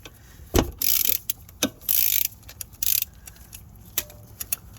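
A ratchet turns bolts through a long 3/8 extension while removing the engine from a 2013-2018 Nissan Altima, giving several short bursts of fast clicking separated by sharp metallic knocks, close and alone.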